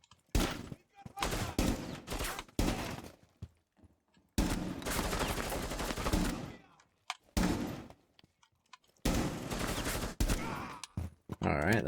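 Gunfire in the Rainbow Six Siege video game, several loud bursts of rapid shots separated by short quiet gaps, with brief talk in between.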